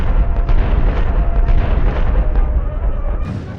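Triple-barrel tank cannon on a fictional Merkava X-3RFG in the Sprocket tank game, firing as a loud, dense rumbling blast with overlapping booms that rolls on for several seconds before thinning out.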